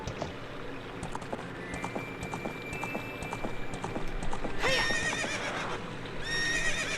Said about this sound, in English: So let's get up on our horse.